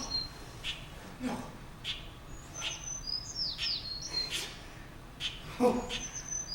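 Small caught birds chirp and tweet in short, high, scattered calls over a steady background hiss, fairly close, with no talking.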